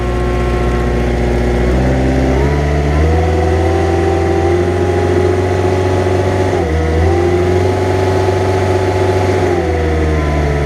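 A Hayter LT324 triple gang mower's warmed-up engine runs loud and steady close by, with the pitch rising and dipping a few times as it revs, alone without voices.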